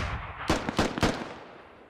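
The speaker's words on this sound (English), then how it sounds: "Rockets now landed." Rockets landing close by in the military shooter game Squad, heard as three sharp, booming impacts in quick succession, each followed by a fading rumble and debris hiss.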